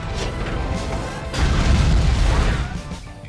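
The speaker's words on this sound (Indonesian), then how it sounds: "Bagian ini juga mengurus soal ledakan, hancurnya gedung, dan sebagainya" CGI explosions and collapsing buildings from Avengers film effects make a loud, dense rumbling roar with crashing debris that swells midway and then eases off.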